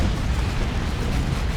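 Plasma cannon fire in the Dawn of War 2 strategy game, heard as a dense, continuous roar of explosions and rumbling blasts, loud and unbroken with no talk.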